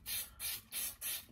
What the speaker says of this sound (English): And what you do is just spray a layer on top of there